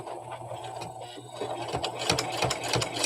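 Sewing machine running a straight stitch for appliqué, a steady mechanical whirring with a rapid needle rhythm that speeds up and grows louder toward the end.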